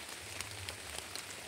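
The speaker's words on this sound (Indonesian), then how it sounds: "Hujan ini nggak pakai berhenti." Rain falls steadily on a surface at a campsite in a dense, hissing wash with scattered louder drop impacts, continuous and close across the whole moment.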